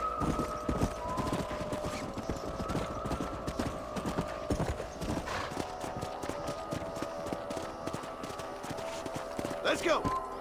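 Horse hooves clip-clopping in the video game Red Dead Redemption, a steady rhythmic clatter of several horses on hard ground, close and clear, with a whinny near the end and a background hum.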